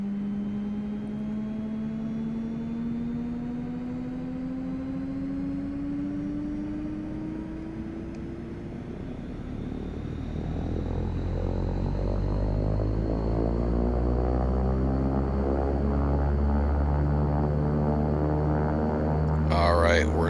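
A Beechcraft King Air 350 turboprop starting up in X-Plane 11: a steady rising turbine whine, with the engine tone deepening and growing louder into a sustained idle roar.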